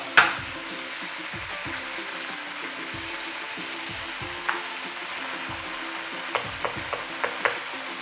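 Egg frying in oil in a wok beside rice noodles for pad thai, a steady sizzle with occasional clicks and scrapes of a utensil stirring, close and without talk.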